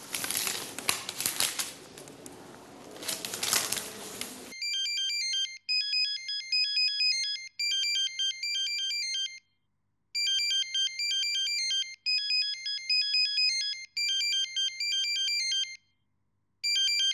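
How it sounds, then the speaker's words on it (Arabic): Electronic mobile phone ringtone plays in repeated bursts of bright, beeping melody separated by short pauses, loud and close, after a few seconds of busy room noise. "الموبايل"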